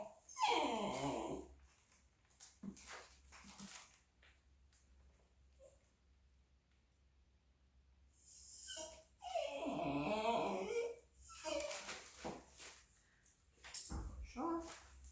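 A young dog lying on the ground close by whimpers and whines in a few separate bursts, with breathy yips and quiet gaps between them, no talk over it.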